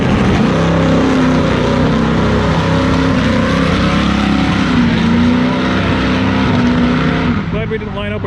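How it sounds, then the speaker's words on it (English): Race car engine at a drag strip running loud and steady for about seven seconds with an uneven, stumbling misfire, then cutting off abruptly; voices talk over it. "Oh man, he's got a misfire."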